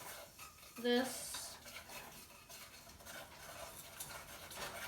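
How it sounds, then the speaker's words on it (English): A spoon stirs hot chocolate in a cup, sending a bright clink against the side early on, then soft scraping swirls while a voice speaks briefly. "I'm going to use my spoon to turn"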